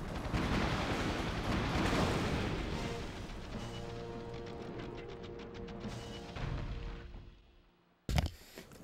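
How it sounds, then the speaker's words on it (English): Loud, sustained explosion from a destroyed helicopter in the video game 007 The World Is Not Enough, a long roaring blast that rumbles for several seconds, fades, then ends with a brief sharp burst. "So the explosion killed me from destroying the helicopter."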